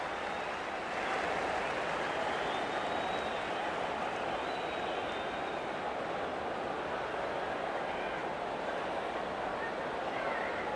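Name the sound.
stadium crowd cheering at kick-off in rugby league video game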